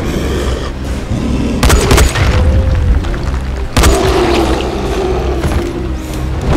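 Two sharp, loud gunshot blasts from the video game Dying Light, the first just before two seconds and the second near four, each followed by a rumbling tail over steady game noise.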